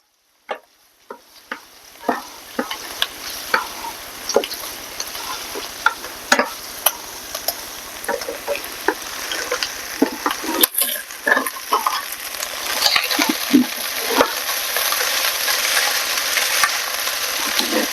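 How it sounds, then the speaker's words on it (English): Sausage frying in a pan with potatoes while being stirred, a continuous close sizzle punctuated by frequent scraping and clacking strokes of a utensil, growing denser toward the end. "Just kind of give the sausage a little bit of a stir."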